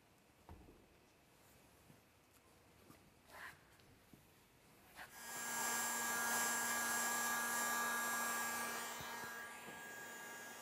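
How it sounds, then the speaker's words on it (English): Heat gun blowing hot air over car wrap film at a glued seam, a steady loud whoosh that starts abruptly about halfway through after quieter handling noises, holding with a faint tonal hum. "Warm and blow the film where the seam occurs at the highest point."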